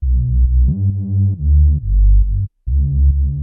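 A loud, buzzy speed garage synthesizer bass made in Serum plays a short rhythmic riff with growling, wobbling tones and a brief gap of silence near the end.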